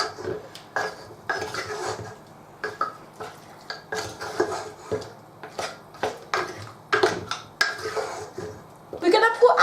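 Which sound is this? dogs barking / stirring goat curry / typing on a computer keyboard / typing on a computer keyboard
stirring goat curry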